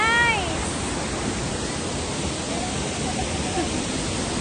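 Waterfall at a yacht club resort in Infanta, Quezon, roaring as a steady, dense wash of broadband noise close by, with a brief voice at the very start.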